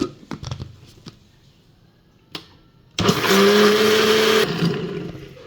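Electric kitchen grinder running steadily on ginger, garlic and cumin for a mint and pomegranate-seed chutney, starting abruptly after a few soft knocks and whirring loudly for about one and a half seconds before the motor winds down.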